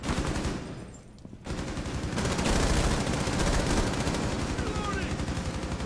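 Sustained automatic gunfire from the tactical shooter Rainbow Six Siege, loud and dense for nearly six seconds with a brief lull near the start, with a voice talking over the shooting.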